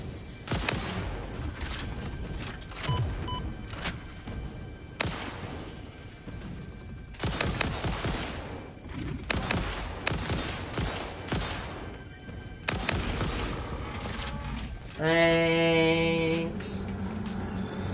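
Rapid gunfire bursts in Satisfactory, loud close volleys of shots in repeated clusters, ending with a tonal electronic chime.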